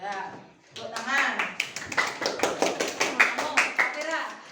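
Children clapping their hands in a classroom, a burst of sharp claps in a quick, even rhythm that follows a brief spoken voice at the start.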